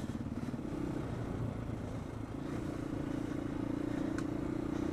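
A trail motorcycle on knobbly tyres churns through mud in Wales, its engine droning at moderate distance with occasional clattering, fairly quiet and without voices.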